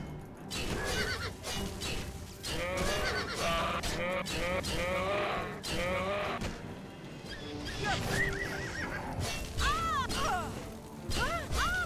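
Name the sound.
horse in video game Oblivion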